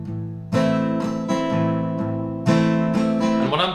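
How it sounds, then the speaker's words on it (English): An acoustic guitar plays the strumming pattern for a song: close, ringing chords with a steady run of down and up strokes and a few stronger accented strums, with no voice. "Let's talk about the rhythm for the song now, the strumming pattern that we're going to use."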